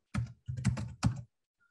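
Typing on a computer keyboard, three short bursts of key presses close to the microphone with brief pauses between them and no talk.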